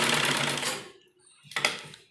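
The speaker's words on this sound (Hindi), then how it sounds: "जो मशीन का एक पैर है इसके अनुसार हमें सिलाई लगाएंगे।" Sewing machine stitching a heavy-size kurti cut from printed fabric, a dense steady whir of rapid stitches for most of the moment, a brief pause, then another short burst of stitching.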